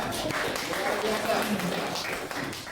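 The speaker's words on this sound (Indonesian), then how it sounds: "Tepuk tangan, ya." Applause from an audience at a lecturer certification session, a steady dense wash of clapping that fills the whole moment without pause.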